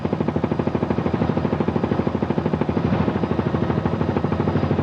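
A helicopter flies over flood-hit southwest Georgia near the Crisp County Power Dam in 1994, its rotor blades beating in a loud, steady, rapid thump close by with no talk.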